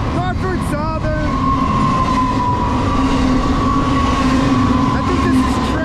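A Norfolk Southern freight train with three locomotives rolls past close by in pouring rain, with a loud continuous rumble, rhythmic wheel clatter and a sustained metallic squeal; a faint voice briefly sounds early.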